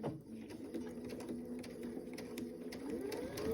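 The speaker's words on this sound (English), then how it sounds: "So I start off, do a couple stitches, and then you do want to back stitch" A sewing machine runs through a few stitches and a back stitch while piecing a Daisy Dresden table topper, its motor a steady close whir with a rapid needle clatter, quiet and continuous with no talking.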